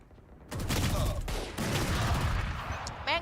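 Sustained gunfire in Valorant, a dense rattling volley that starts abruptly and carries on loudly with brief breaks, under a faint voice.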